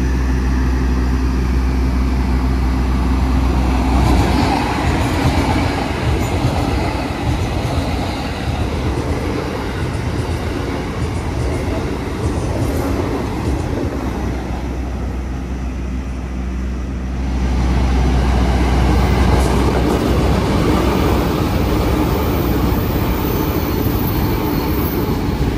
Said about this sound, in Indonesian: ditambah lagi rangkaiannya pakai kereta New Generation, itu yang paling mantep.